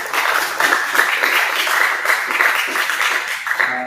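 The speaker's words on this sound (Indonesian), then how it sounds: "Beri aplaus dulu untuk kelompok 2 ini." A classroom group, just finished presenting a diagnosis of a petrol electronic fuel injection system, gets steady applause, dense clapping sustained at even loudness throughout with no pauses.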